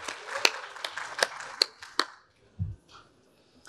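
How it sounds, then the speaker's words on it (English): Sparse applause from a small audience welcoming a Jeopardy-style game show contestant, a few scattered sharp claps over about two seconds before fading out. "Round of applause for Dan."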